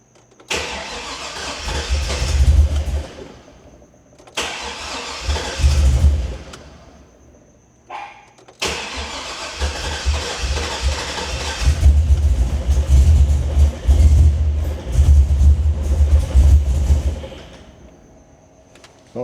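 An LS swap engine on a freshly installed Haltech ECU revs under throttle on its first start, running rough and loud, with repeated surges separated by brief drops and a long sustained roar at the end.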